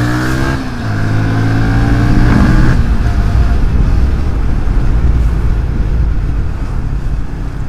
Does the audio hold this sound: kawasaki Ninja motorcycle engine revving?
yes